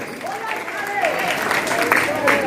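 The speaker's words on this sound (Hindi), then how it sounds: "तालियां बजा के स्वागत करें भी, तालियां बजा के" A crowd at a religious program honoring Valmiki applauds continuously, with a voice speaking or chanting over the steady clapping throughout.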